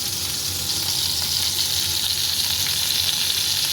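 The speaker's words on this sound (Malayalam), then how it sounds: "ചിക്കനെല്ലാം ഞാൻ വറുത്ത് കോരിയിട്ടുണ്ട്." Chicken fries in a hot pan for ginger chicken, giving a steady, loud, close sizzle that crackles continuously with no talking.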